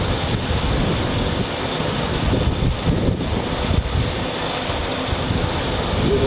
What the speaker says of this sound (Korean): 지금 바람이 생각보다 많이 불어서 차가 많이 흔들리거든요